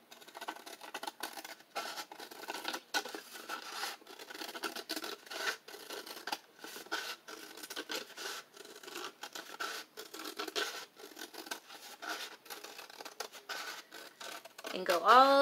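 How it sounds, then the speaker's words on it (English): Safety scissors cut steadily around a paper plate, up close, with a continuous rapid scratchy snipping and brief pauses. Nobody speaks. "If you want a little bit of room, kind of go to this middle point here, turn, and then just do your best to cut around."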